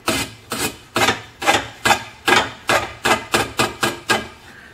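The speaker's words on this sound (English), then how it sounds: "take a pocket knife or a file and remove any burrs on the inside and the outside" A metal file rasps over the cut end of an external lock tube to clear burrs, about a dozen evenly spaced strokes close up and alone.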